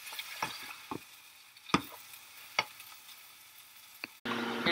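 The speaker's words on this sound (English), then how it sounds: "So we just put in the sausage and we just press down to chunk it up." Sausage cooking in a pan for homemade pizza, quiet sizzling broken by several sharp utensil clicks and scrapes as the meat is pressed into chunks, ending in a sudden louder burst of frying.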